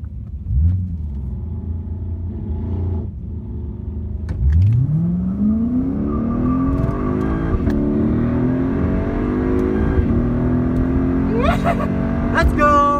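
A Lexus ISF and a Mercedes C63S AMG race side by side, engines rumbling at idle, then one revs hard and accelerates through rising gear pulls, loud and close, with people talking over it.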